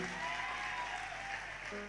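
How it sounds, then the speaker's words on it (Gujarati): Faint, steady clapping from a distant crowd at a Kadva Patidar Laxminarayan community dayro, honouring the elders, sustained evenly throughout. "એકવાર ખૂબ તાળીઓના ગડગડાટથી વડીલોને આપણે વધાવીએ"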